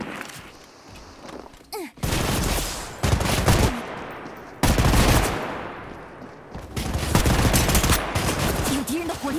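Gunfire from the mobile shooter game Apex Legends Mobile, with bursts of rapid automatic shots crackling loudly and repeatedly alongside game effects across the whole stretch.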